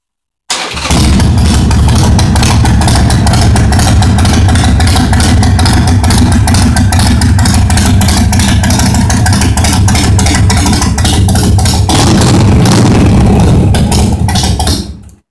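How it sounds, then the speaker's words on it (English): A 2006 Harley-Davidson 883 Sportster motorcycle engine runs steadily and loud throughout, a continuous close rumbling idle with no talk over it. "It's a 2006 883 Sportster."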